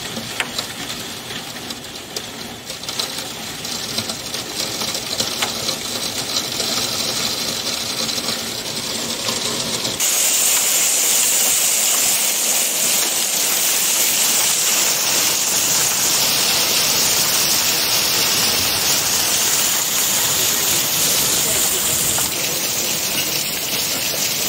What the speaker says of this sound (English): We had some really bad hail, actually.